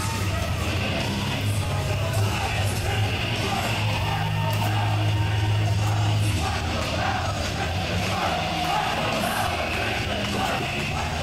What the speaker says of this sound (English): Nasty crowd on hand, showing their respect for our own here tonight